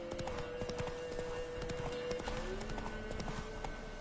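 Roach, the horse in The Witcher: Wild Hunt, galloping, a steady, rapid clip-clop of hooves close up over a game soundtrack with sustained tones, continuing throughout.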